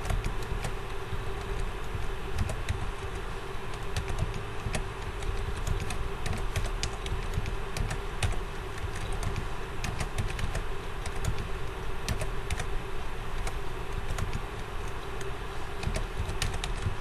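Rapid keypresses as a numerical value is typed into a calculator, a steady stream of light clicks held at an even level with no talking over them.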